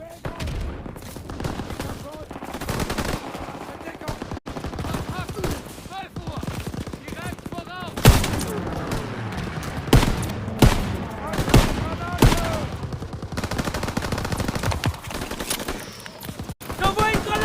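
Rapid bursts of machine gun fire and other gunshots crackle loudly through a Call of Duty WW2 battle, with dense shooting throughout and voices shouting over it.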